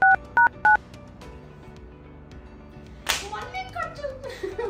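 Three short two-tone telephone keypad dialing beeps sound in quick succession at the start, followed by a low murmur and then a busier burst of mixed sound.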